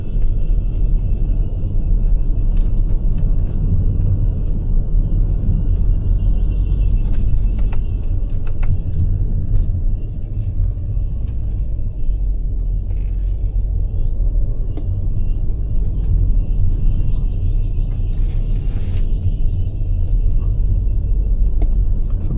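Toyota Innova HyCross cruising a winding Western Ghats mountain road near Kudremukh, its steady low rumble of engine and tyre noise filling the cabin continuously without a break.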